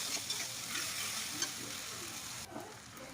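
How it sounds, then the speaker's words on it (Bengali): A ginger, garlic and green chilli paste fries in hot oil with a low, continuous sizzle and soft stirring scrapes, steady and fairly quiet throughout, with no one talking. "তো এবার আমি দিয়ে দিলাম আদা রসুন কাঁচা লঙ্কার পেস্ট।"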